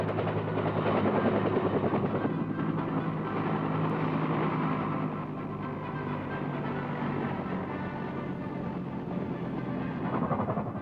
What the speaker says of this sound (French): les hélicoptères atterrissent sur les zones prévues à cet effet et apportent les précieuses cargaisons